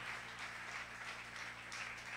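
A church congregation applauding in acclaim of Jesus Christ, a steady wash of many hands clapping at once, fairly faint and continuous throughout, with no talk over it.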